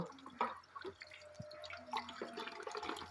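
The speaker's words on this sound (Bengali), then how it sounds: "খুব সুন্দর করে মাছটা ধুয়ে নিলাম" Water running and dripping as a pomfret is rinsed clean by hand in a kitchen, with soft splashes and drips close by and no talking.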